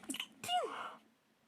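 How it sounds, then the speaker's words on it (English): A small, close sneeze, a faint breathy intake followed by a short, weak burst that fades into quiet. "I hate how pathetic my sneezes sound."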